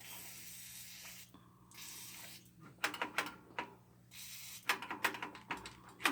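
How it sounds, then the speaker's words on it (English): Several short bursts of aerosol lubricant spray hiss onto the gripper arm shaft of a Rowe CD jukebox, close up, in quick uneven pulses with brief pauses, over a faint steady hum. "what I'm doing now is I'm spraying this shaft here"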